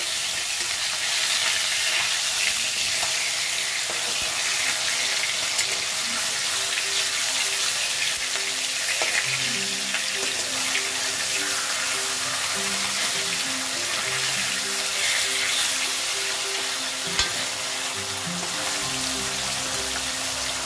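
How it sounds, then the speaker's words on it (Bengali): Katla fish pieces fry in a pan, a dense continuous sizzle with occasional spatter and a few utensil scrapes as the pieces are turned, close and steady throughout. "এই পাশটা মোটামুটি ভাজা হয়ে গেছে, আমি সেই জন্য উল্টিয়ে দিলাম।"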